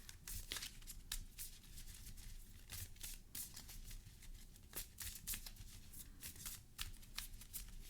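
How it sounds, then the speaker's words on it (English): Marvel Champions game cards are shuffled by hand in quick riffling bursts, a close, steady run of crisp flutters and soft taps with no talking. "I'll shuffle this up again."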